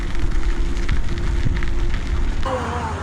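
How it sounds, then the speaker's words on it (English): Light rain falling outdoors during a bicycle ride along a canal, a soft steady patter and hiss with faint background noise throughout. "Raining a bit now."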